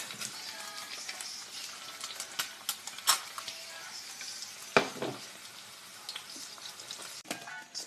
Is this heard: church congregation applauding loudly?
no